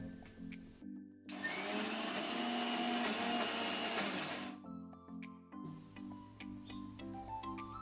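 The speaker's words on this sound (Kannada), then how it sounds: "ಈಗ ಇನ್ನು ಮಿಕ್ಸಿಯನ್ನು ಆನ್ ಮಾಡು ನಾವು" A mixer grinder grinds soaked green gram with little water for juice, a loud steady whirring burst of about three seconds that starts abruptly and cuts off, with quieter kitchen clatter and hum before and after.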